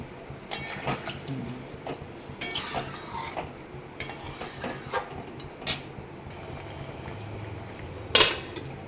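Curry is stirred in a cooking pot after water is added, giving close scraping strokes and clinks of a spoon against metal at an irregular rhythm over a low bubbling background, ending with one sharper knock.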